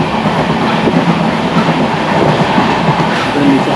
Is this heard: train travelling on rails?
yes